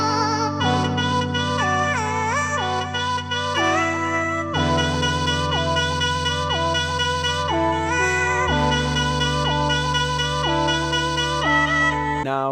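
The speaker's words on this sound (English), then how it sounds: "those melodic elements together, the melody, the vocal, and the trumpet, sound like this together" A reggaeton loop built in FL Studio carries a melody, a vocal line and a trumpet together, bright gliding lead phrases riding over steady low sustained chords that shift every few seconds, loud and continuous with no talking.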